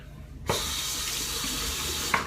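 A bathroom sink tap switches on abruptly and runs in a steady, close rush of water while a shaving brush is rinsed, with a brief splash near the end.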